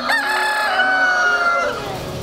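Laying hens on a farm, with a rooster crowing a single loud, drawn-out cock-a-doodle-doo close by amid clucking fowl, filling the whole moment.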